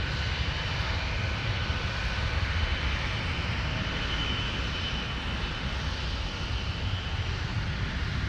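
A fixed-wing airliner roars down runway 17 on its takeoff roll at Minneapolis–Saint Paul airport, a steady, loud, continuous engine rumble with broadband hiss lasting throughout and no voices over it.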